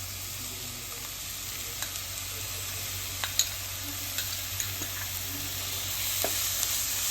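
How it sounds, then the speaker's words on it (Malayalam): Onion, garlic, ginger and green chili sautéing in a pan for chicken cutlets, a steady close frying hiss with scattered light clicks and scrapes from stirring and no talking. "ഇതിൻ്റെ പച്ചമണം ഒന്ന് മാറുന്ന വരെ ഒന്ന് വഴറ്റാം"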